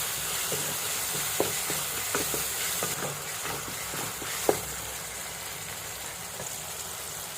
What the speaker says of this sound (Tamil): பாருங்கள் எப்படி வதங்குது.